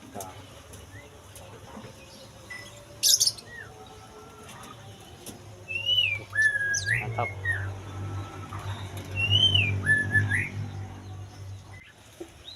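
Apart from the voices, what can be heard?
pleci (white-eye) birds chirping in an aviary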